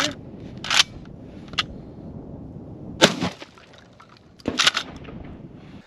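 Kel-Tec KSG25 pump shotgun at a shooting session, with a few sharp cracks and mechanical clacks spread across the clip, fairly close, over a quiet outdoor background.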